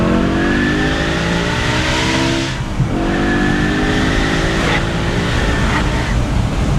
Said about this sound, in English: at the higher RPMs, you can hear the throttle bodies open up and you hear the induction sound, and it sounds like a scream